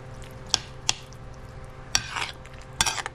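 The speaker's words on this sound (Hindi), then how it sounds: "अभी अंडे को एक्चुअली हम लोग मिक्स कर दे रहे, तो जो जो टेस्ट है अंडे का वो इसमें आ जाएगा" An egg is stirred into lablabi, a Tunisian chickpea soup, with wet squishes and light clinks of a utensil against the bowl, irregular and close.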